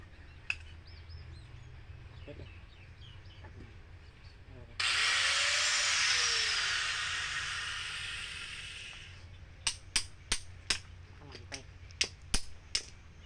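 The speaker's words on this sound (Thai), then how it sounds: "ใช้ลูกหมูนะคะต้องระมัดระวังแล้วก็ต้องใส่แว่นตาด้วยนะคะ" An angle grinder cutting steel from a dismantled motorcycle part whines loudly for about four seconds, its pitch sagging as it cuts, followed by a series of sharp metallic taps and knocks.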